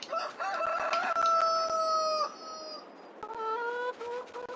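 A farm chicken squawks and crows loudly at close range, a long drawn-out call followed by a shorter second one, with rustling outdoor background.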